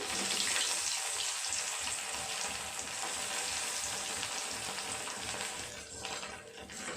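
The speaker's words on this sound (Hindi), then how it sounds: "जिसमें हमने पहले फ्राई किया था, अभी उसी में ये फिर से फ्राई करेंगे।" Taro root (arbi) pieces sizzle steadily in hot oil being reused for a second fry, a constant bright crackling hiss with faint stirring underneath.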